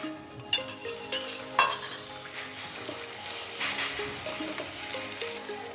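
Jaggery cooking down with water and ghee in a kadhai: a few bright spoon clinks against the pan at first, then a steady, close sizzling bubble that carries on alone.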